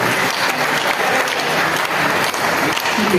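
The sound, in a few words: audience clapping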